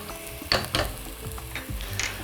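Alcohol cooks off in a hot pan for a red soup, giving a bright hissing sizzle with bursts of stirring scrapes that flare up several times over a couple of seconds.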